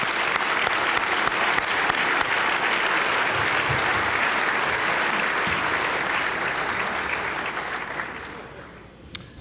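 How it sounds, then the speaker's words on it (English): A large audience applauds steadily for about nine seconds at a formal club dinner event, a dense even clatter of many hands that fades slightly toward the end. "And now a round of applause for all of our distinguished members."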